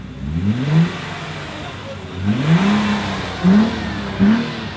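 A turbocharged engine blips its throttle in several short rising revs, each surging up and falling back between steady idling. It sounds close and loud, with faint talk in the background.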